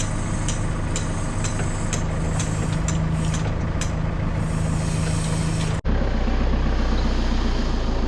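A 5-ton forklift engine drones steadily while driving across a dry garden lawn, with a constant low rumble, a brief dropout near the end, then a heavier, lower engine note.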